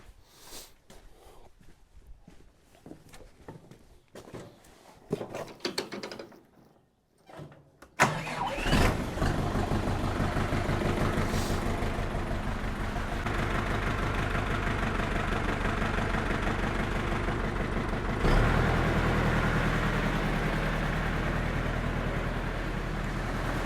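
An ARPAL tractor engine cranks and catches after a few quiet seconds, then settles into a loud, steady, rumbling idle that keeps going close by.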